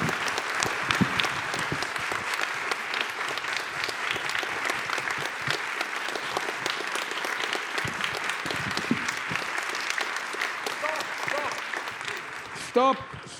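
Audience applause after an annual oration, sustained dense clapping from a large crowd that holds steady for the whole stretch, with a few louder claps near the end.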